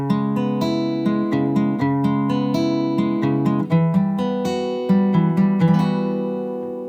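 An acoustic guitar plays the chorus chords of a song as a series of strummed and picked chords, each ringing out before the next, steady in rhythm and close up, with no talking.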